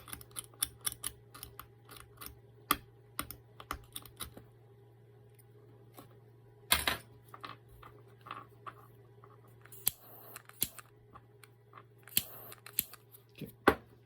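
Scissors snip parts for a DIY humanoid robot finger: sharp, close, irregular cutting clicks and snips in quick bursts, with quieter pauses and a low steady hum underneath.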